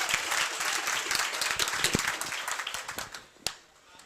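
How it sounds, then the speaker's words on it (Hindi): Loud, dense applause from a crowd that fades out toward the end, with a single sharp clap near the finish. "एक बार जोरदार तालियां हो जाए सर के लिए"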